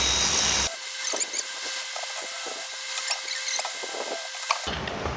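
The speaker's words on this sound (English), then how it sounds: "We pop these 3 bolts out" A power tool whirs steadily as it removes bolts during engine and transmission removal on a Chevy Impala, with small clicks and rattles over the drone.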